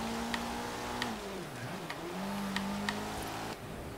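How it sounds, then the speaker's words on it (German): Dart GT in the Forza Horizon 3 racing game, a rally-like engine held at a steady high drone with pitch dips and rises through a chicane, plus a few short sharp clicks, with no one talking. "Hört sich an wie ein Rallye-Motor"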